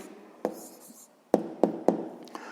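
Pen or pencil strokes on paper while noting down a sixth-grade maths answer about varnish for parquet, a few distinct taps and scratches with pauses between them, close and alone.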